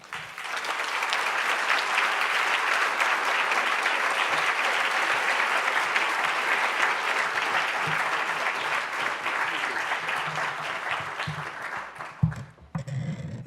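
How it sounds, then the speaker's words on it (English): Prolonged applause from the audience at a literary awards ceremony for the announced winner, a dense even roar of clapping that swells and holds, then thins out into a few scattered claps and stirring at the end. "There was a lot of applause there."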